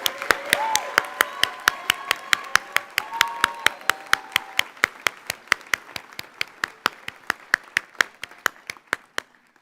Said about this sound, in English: please join me in a round of applause to acknowledge our amazing student